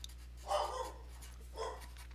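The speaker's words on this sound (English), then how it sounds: "Sorry if you can hear my dog." A dog barking at home in the background of a math lecture: two short, muffled barks about a second apart, faint and distant over a steady electrical hum.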